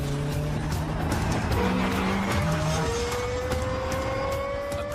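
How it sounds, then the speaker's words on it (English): The Lexus LFA's high-pitched V10 engine revs and climbs through gears, its tone rising steadily, with road noise and a faint squeal, moderately loud and continuous. "the highest revving V10 engine in a production car"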